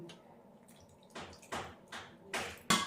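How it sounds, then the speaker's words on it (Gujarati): Buttermilk is poured into sorghum flour idli batter in a home kitchen, making a few soft, wet splashes and drips at uneven intervals, faint and close, with no talk. "છાશ ઉમેરી રહી છું"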